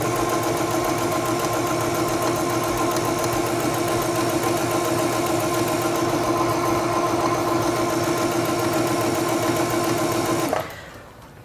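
A Singer 7258 computerized sewing machine runs a straight stitch with a fast, steady mechanical whir and rapid needle clatter, loud and close. It stops abruptly near the end, leaving quiet room tone.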